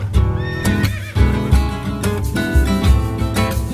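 A pack horse carrying gear on a mountain trail gives a loud, close neigh, with clip-clop hoofbeats and rhythmic thuds around it.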